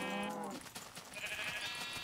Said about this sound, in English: I need to start killing some of those sheep because there's too many